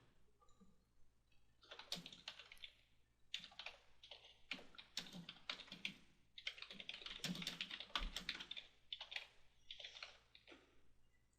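Quiet, close typing on a computer keyboard, with bursts of rapid key clicks separated by short pauses, no voices over it.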